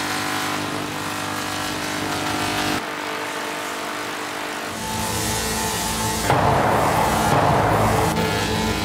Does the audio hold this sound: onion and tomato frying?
no